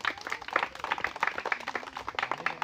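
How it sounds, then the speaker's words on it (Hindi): A small crowd at a village magic show claps for the bride, a brisk run of uneven, moderately close handclaps that continues throughout. "दुल्हन ताली लगा दो"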